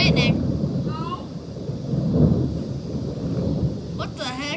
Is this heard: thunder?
yes